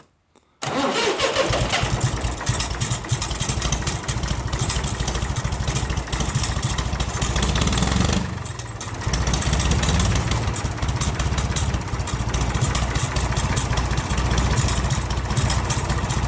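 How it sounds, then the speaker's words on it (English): An IH 484 diesel tractor engine with a PLN engine fault, running smoky, cranks and catches, then runs loudly and roughly with a steady chug, dipping briefly partway through before picking back up. "it already sounds way, way better"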